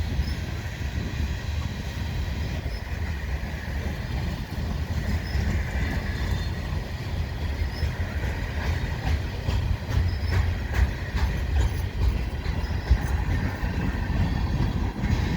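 A CN mixed freight train of covered hopper cars rolls past at St Henri, with a continuous low rumble and rhythmic clacking of wheels over rail joints.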